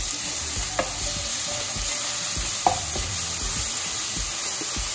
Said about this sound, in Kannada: ಈಗ ಲೋ ಫ್ಲೇಮ್ ಇಟ್ಕೊಂಡು ಈಗ ರುಬ್ಕೊಂಡಿರೋ ಪೇಸ್ಟ್ ಹಾಕ್ಕೊಳ್ಳೋಣ